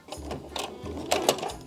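A sewing machine labors at stitching buttonholes on a pair of jeans, giving short uneven mechanical whirring bursts and clunks that stop and start as it struggles, close by and moderately loud.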